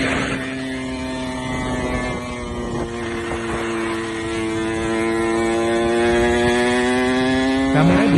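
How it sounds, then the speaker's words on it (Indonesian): Motorcycle exhausts on a coastal touring route in Garut, Indonesia, hold a steady droning roar that climbs gradually in pitch as the bikes are pushed harder, loud and continuous with no talk. "Suara knalpot yang meraung-raung, bagi rider terdengar indah."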